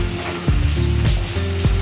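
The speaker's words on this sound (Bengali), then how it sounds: "এই আলুগুলো যেই একটু ভাজা হয়ে যাবে, সবই গোল্ডেন কালার হবে" Potatoes fry in white oil, giving a close, loud sizzle over a low steady hum, with a few sharp clinks from the spoon or pan; nobody speaks.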